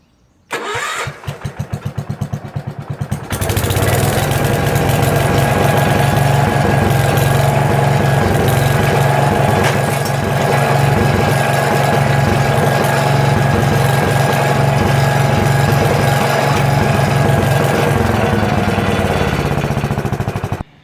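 A 1976 Gravely 566 walk-behind tractor engine cranks in a few quick pulses, catches, and settles into a loud, steady, close-up running drone that holds to the end.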